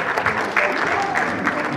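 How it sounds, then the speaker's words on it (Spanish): Applause from a crowd at a community meeting on improving public space, a steady dense patter of clapping that holds evenly through the whole moment. "yo creo que nos merecemos un fuerte aplauso"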